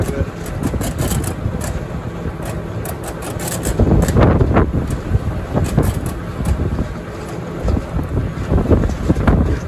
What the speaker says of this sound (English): it's so windy up there today